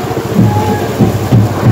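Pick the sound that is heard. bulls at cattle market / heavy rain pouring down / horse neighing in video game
heavy rain pouring down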